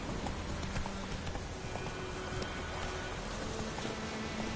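Roach the horse gallops in The Witcher 3 with a rapid, continuous clip-clop of hooves, set against a dense wash of rain and ambient game noise.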